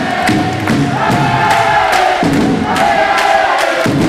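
Two sets of fans at a regional Serie C basketball game in Cerignola cheer and chant together, a loud, dense crowd roar with rhythmic thumps and shouts sustained throughout.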